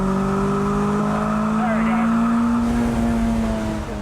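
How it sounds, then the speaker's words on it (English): A Toyota VVTi engine's induction noise swells as it comes on cam: a loud, steady, harmonic engine drone that climbs slightly in pitch and holds continuously for several seconds. "it does sound really good when it comes in, that induction noise"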